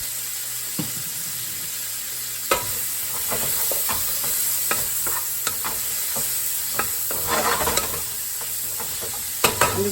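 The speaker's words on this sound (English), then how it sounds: "I'm just gonna fry these until my onions are a little browned" Peppers and onions frying in a pan with seasoning salt, a constant close sizzle broken by frequent sharp spatula scrapes and taps as they are stirred.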